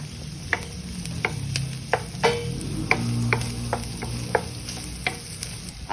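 Garlic and onions sauté in a pan for a Spam and oyster sauce dish, a steady close sizzle broken by repeated sharp scrapes and clicks of a utensil stirring.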